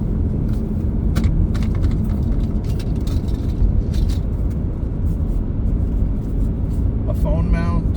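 Inside a car while driving, a constant loud low road and engine rumble fills the cabin with scattered clicks and rattles, and a voice speaks over the noise.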